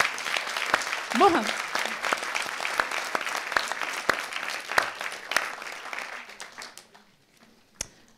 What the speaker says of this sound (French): Vous pouvez l'applaudir, Marie-Charlotte